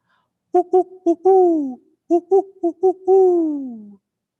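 A person imitates a barred owl, giving a rhythmic series of short hoots ending in a drawn-out, falling hoot, repeated twice, loud and close.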